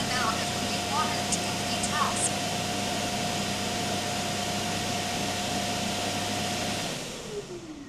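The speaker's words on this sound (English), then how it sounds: "empties the dust box before it runs at 10 a.m. So this process is kind of loud" A DJI robot vacuum's base station loudly emptying the dust box, a steady whooshing motor roar and airflow holding constant for several seconds before winding down near the end.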